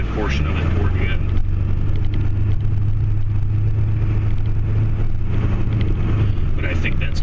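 Ford F250 Powerstroke truck running steadily while plowing, a continuous low diesel rumble with faint clatter, close and unbroken throughout, with someone talking over it.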